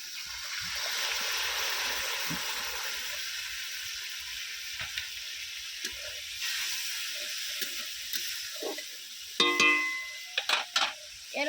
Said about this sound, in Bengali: এবারে দিয়ে দিচ্ছি অল্প একটু জল